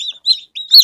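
A newly hatched chick peeps inside a homemade box incubator, giving several short, high, close chirps in quick succession with brief silent gaps between them.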